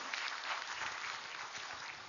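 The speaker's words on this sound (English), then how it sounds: "A big round of applause again for Dr." Steady audience applause at a leadership talk, a dense even patter of many hands clapping, heard from a distance and fairly faint, with no voices over it.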